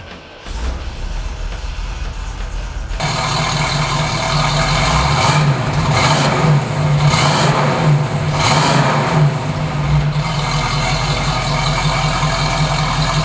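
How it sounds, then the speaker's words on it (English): A 1974 Pontiac Trans Am's 400 V8 engine cranks and catches at about three seconds, then runs with a deep rumble and several blips of the throttle that swell and fall back to idle. "how about I start it for you so you can hear what that nice little 400 sounds like"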